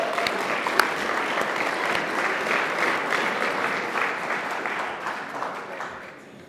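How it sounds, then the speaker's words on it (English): Meeting attendees at a North Braintree civic association gathering applaud themselves, a dense, steady round of clapping from a room full of people that holds for several seconds and then gradually thins out. "So what I'd like to do is have you guys give yourselves a round of applause."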